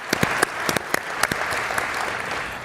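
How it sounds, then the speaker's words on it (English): Scattered audience clapping at a press conference in a large hall, a sparse handful of distinct claps early on thinning into a soft, diffuse patter. "I'll clap."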